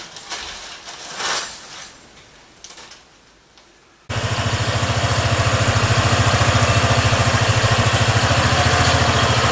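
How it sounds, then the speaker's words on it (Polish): A new Barton X-Trail motorcycle starts for the first time and settles into a loud, even idle with a steady rapid pulse as it warms up, after a few seconds of quieter clatter and handling noise. "Pierwsze odpalenie, motocykl zaczyna się grzać."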